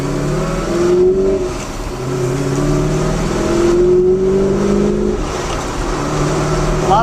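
A 1967-1973 Maserati Ghibli engine running loud and close, a steady deep drone with smooth rising and falling pitch swells as it pulls under load without high revs.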